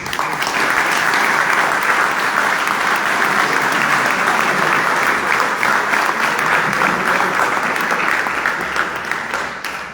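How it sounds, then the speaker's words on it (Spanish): A talk audience gives sustained, dense applause at a lecture with Ricardo Forster, many hands clapping together in a loud, continuous wash that stays even for the whole stretch before tapering slightly at the end. "otro aplauso"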